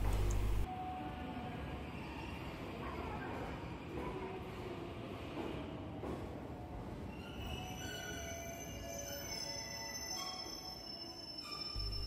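The Train Suite Shiki-shima luxury sleeper train rumbles past close by at Sapporo Station, steady heavy rolling noise with faint wheel squeal and metallic ringing tones toward the end.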